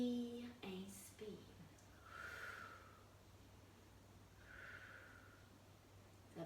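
Slow breaths out and in during a gentle exercise session with a small ball, soft and close, two drawn-out exhalations with quiet inhales over a steady low hum.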